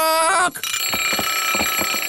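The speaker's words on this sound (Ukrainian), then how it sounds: "Вимкни будильник, будь ласка." Cartoon alarm clock ringing continuously, a bright metallic bell rattling in quick repeated strikes, loud and close throughout after a brief tonal chime at the start.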